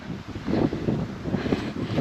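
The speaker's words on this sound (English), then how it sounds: "It's so windy today, but it's not raining." Strong wind blows steadily outdoors on a cold day while winter garden prep goes on, a loud continuous rushing that buffets the microphone throughout, with no talking.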